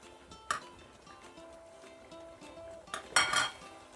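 Fried potatoes are mixed into pork igado in a pan, with a spoon clinking and scraping against the metal a few times. A couple of sharper clinks stand out over a quiet background.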